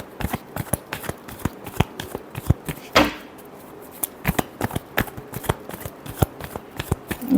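Tarot cards are shuffled by hand in quick, crisp riffles and taps, a dense run of close, sharp card slaps lasting several seconds with one softer sliding sweep in the middle.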